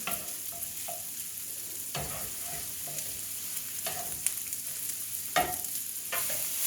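Sausages and vegetables fry in a pan on low heat with a soft, steady sizzle, broken by occasional utensil scrapes and stirs, close but quiet, with no talking.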